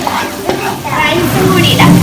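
Chopped tomatoes go into a hot pan while Thai pineapple fried rice cooks, giving a close, steady frying sizzle with some stirring, and a voice speaks over it.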